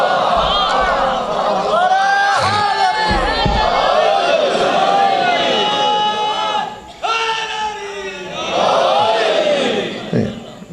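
At a religious gathering, a large crowd loudly chants slogans in unison. The massed voices ring in sustained waves with one brief dip before swelling again.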